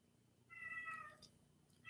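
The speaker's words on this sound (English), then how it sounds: "Now we have whining cats in the background too." Cats whining and meowing in the background, a faint drawn-out cry followed by a few shorter calls over a low steady hum, with no talking.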